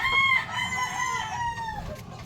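A white Kelso rooster with white Butcher blood and a straight comb crows once, a long, loud, close cock-a-doodle-doo with a drawn-out wavering tail, heard alone without talk.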